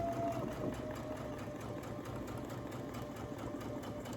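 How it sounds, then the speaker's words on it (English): A Brother Essence VM5200 sewing machine stitches a buttonhole, its needle mechanism running with a steady, rapid mechanical whir and tapping that continues evenly and fairly close throughout. "I picked which buttonhole I want, and now I'm just going to go ahead, let my buttonhole go."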